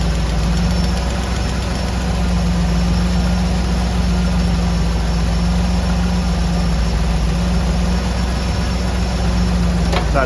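A Chevy V8 idles loudly and steadily at close range during a rocker and valve adjustment, a constant low rumble with a faint mechanical tick underneath.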